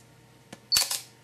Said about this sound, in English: Oops, I have to turn on the shutter.